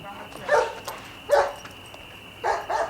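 A restless dog outdoors gives three separate short bursts of barking with quiet gaps between them, faint against a low background.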